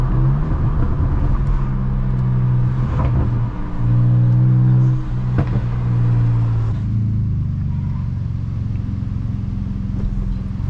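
A BMW 335i tuned to Stage 2 with full bolt-ons accelerates from inside the car, a loud, continuous engine drone whose tone climbs and shifts through the gears with no talking.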